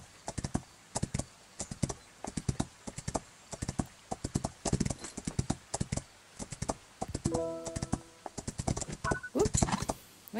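Horse hoofbeats in the Rival Stars Horse Racing mobile game on a cross-country course: rapid rhythmic clip-clop thuds running steadily throughout, fairly close, with a short tonal game sound near the end.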